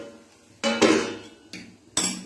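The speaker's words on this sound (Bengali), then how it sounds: "তো এবার আমি ঢাকা দিয়ে দেবো।" A lid set onto a cooking pot of sour fish curry in a home kitchen, sharp metallic clanks in separate bursts, close and clear, with a faint low hum between them.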